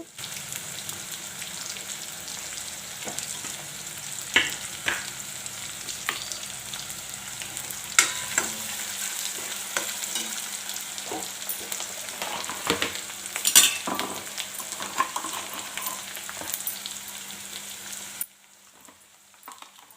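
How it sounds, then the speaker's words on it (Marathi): Finely chopped onion frying in hot oil for a village-style green pigeon pea amti, a steady dense sizzle with occasional louder crackles and stirring, continuous until it drops off near the end. "हा कांदासुद्धा या तेलामध्ये छान असा तळसून घ्यायचा"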